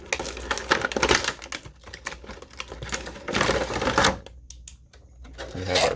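Cardboard packaging of a cheap dollar-store knock-off Bumblebee transforming action figure being pried and torn open, with bursts of close, dry scraping, rustling and flap-tearing noises that stop and restart, no talking.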